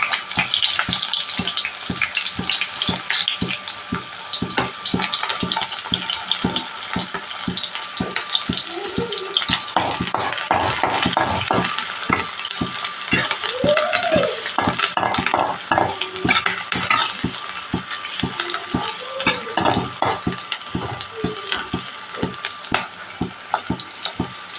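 Chopped onions go into hot oil in a home kitchen while cooking chicken curry, giving a steady close frying hiss with a dense rattle of stirring throughout and faint background tones.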